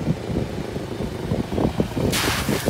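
A vehicle's engine is pushed to full throttle while surfing through a drainage-ditch drop near Alishan, a steady rough roar with rising bursts and a brighter wind-like rush near the end, no voices.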